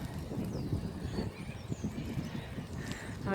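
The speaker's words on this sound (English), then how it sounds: "in here is where the police horses are kept" Police horses in stables at the old jail in the Adelaide Park Lands, South Australia, with hoof clomps and shuffling against a steady outdoor background, plus an occasional faint whinny.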